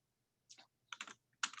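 Keystrokes on a computer keyboard while entering a Federal Register citation into a legal research database: a few quick clusters of soft clicks, close and quiet, with no talk.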